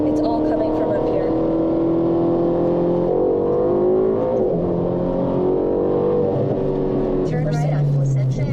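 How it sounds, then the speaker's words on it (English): A Ferrari engine revs while driving, its harmonic tones rising and sliding as the car accelerates and shifts, steady and fairly loud inside the cabin, with voices talking over it. "you're hearing just the engine"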